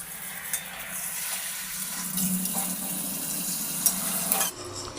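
Water is poured into a simmering curry gravy for a vegetarian egg curry, a close splashing pour over hot oil and masala with sizzling and a few clinks, ending abruptly.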